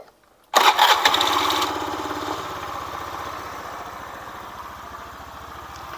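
After a moment of quiet, a Honda Spacy FI or Beat FI scooter engine with a new piston catches with a loud burst and revs briefly, then settles into a steady, rapid idle nearby.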